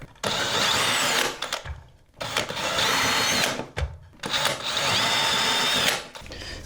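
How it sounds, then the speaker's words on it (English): Power drill boring holes into a ceiling to secure IKEA IVAR shelving, three loud close bursts of whining drilling separated by short pauses, with no talk. "now I'm just going to mark where I need to drill the holes for it to secure into the ceiling"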